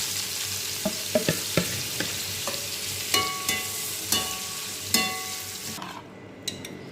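Food sizzles steadily in hot oil in a pan, a continuous crackling hiss punctuated by a few sharp clinks and scrapes of a utensil, heard close with no talking.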